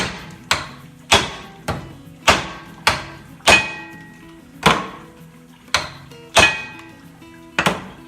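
Heavy hammer blows strike a tapered part on a Massey Ferguson 231 tractor during engine teardown, about a dozen loud, sharp metallic thuds spaced roughly half a second to a second apart, each ringing briefly, with no talking.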